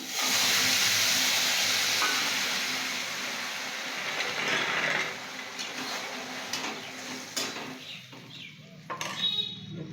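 Bottle gourd goes into a hot pan and sizzles with a loud hiss that gradually settles, followed by a few sharp clinks of utensils against the pan near the end.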